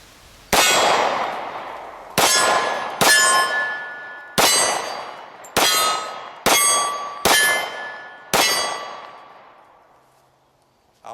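Eight sharp metallic clangs ring out from steel targets struck by a Glock Model 30 firing .45 ACP, each hit loud with a bright decaying ring, spaced irregularly about a second apart with no talking.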